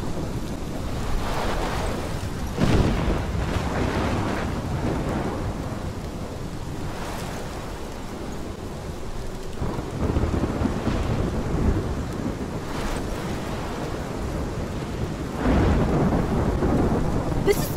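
A heavy thunderstorm in the video game Life is Strange: steady loud rain with repeated deep rolling thunder claps, close and booming, with no talk.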